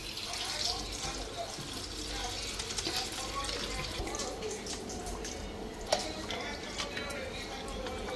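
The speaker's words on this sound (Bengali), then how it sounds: "এদিকে মাছের মাথাটা ধুয়ে নিই" A fish head being washed under running water from a tap, a steady close rush of water with a few small clinks and drips, with quiet talk underneath.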